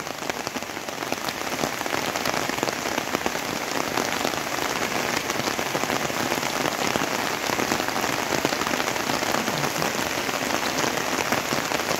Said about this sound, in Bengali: বৃষ্টি চলছেই।